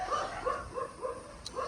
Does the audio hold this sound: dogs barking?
yes